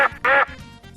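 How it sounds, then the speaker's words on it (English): A cartoon duck gives two loud, close quacks, the second longer and brighter, followed by softer low background sounds. "Say the secret word and the duck comes down."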